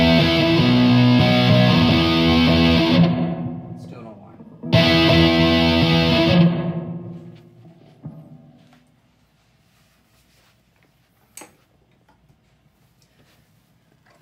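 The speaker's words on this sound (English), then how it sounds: "So now I have an overdrive and a distortion pedal into a high gain amp" Electric guitar through overdrive and distortion pedals into a high-gain amp with high-gain pickups: two loud, saturated chords ringing out, then a decaying tail fading into quiet hiss with a few faint clicks.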